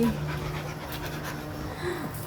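A lively dog panting rapidly and close by before a walk, quick rhythmic breaths over a low indoor background hum.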